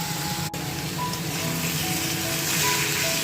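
Watermelon pieces for a spicy vegetarian dish fry in a hot pan, giving a steady, even sizzle that holds throughout without pause.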